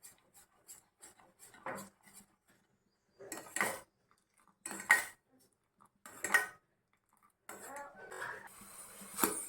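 Batter for breakfast being mixed in a pan over low heat gives intermittent bursts of close, raspy scraping and rubbing from a utensil against the pan, separated by quiet pauses.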